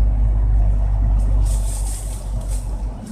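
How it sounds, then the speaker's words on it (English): Busy downtown city traffic in Cincinnati, Ohio: a steady low rumble of passing cars, trucks and buses with occasional hiss of air brakes, fairly loud and continuous without voices. "Cincinnati traffic."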